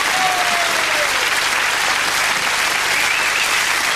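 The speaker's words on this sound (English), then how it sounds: "Come on, give him a round of applause." A studio audience at a Sooty show claps loudly and steadily for arriving guest Gary Olsen, a dense sustained wall of applause with no voices over it.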